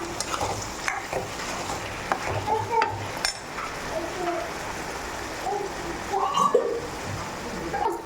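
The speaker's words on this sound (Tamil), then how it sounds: "இந்த தக்காளி நல்லா பச்சை வாசனை போகிற அளவுக்கு நல்லா வதக்கிக்கிங்க" Tomato paste sautéing in a pan for a prawn curry, with a busy close sizzle and repeated scraping stirs of a utensil against the pan; a voice talks intermittently over the cooking.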